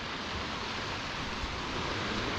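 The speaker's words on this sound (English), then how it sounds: "there is some waves ripping in today" Rough North Sea waves rolling in against a rocky Scottish shoreline, a continuous moderate rushing wash of surf with a faint low thump partway through.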